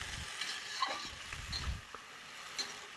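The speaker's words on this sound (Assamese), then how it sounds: "শাকটা ভাজি দিছোঁ, অল্প টাইম ভাজি ল'ম ভাল কৰি" Leafy greens frying in a pan, a soft sizzle with a few light stirring scrapes and clinks, close and fairly quiet with no voices.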